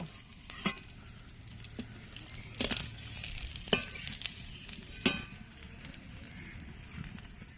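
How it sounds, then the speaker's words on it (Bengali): Quiet, soft sizzling of bhola fish frying in oil with occasional clinks and scrapes of a utensil against the pan. "মাছগুলো কড়া করে ভেজে নিয়েছি"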